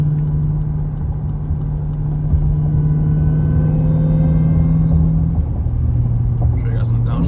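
A 1000-horsepower all-wheel-drive Chrysler running on E85 fuel: a loud, close engine drone, steady and rumbling, whose pitch drops partway through as it downshifts.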